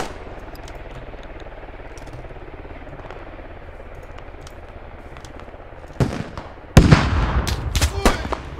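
Gunfire aimed at the player in the Squad video game: after a quiet stretch, a sharp nearby shot cracks out, followed by a dense flurry of loud rapid shots and clatter.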